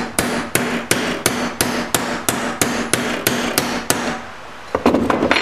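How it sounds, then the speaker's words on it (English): A hammer strikes flat stock to bend a handmade wedding ring, about a dozen sharp metallic blows in steady rhythm, close and loud, then a pause and a few quicker clinks. "I'll use the flat of this flat stock. Hammer on it like that."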